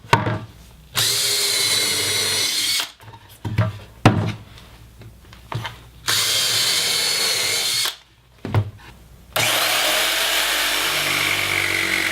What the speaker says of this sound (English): drill some holes with a countersink bit so we can mount it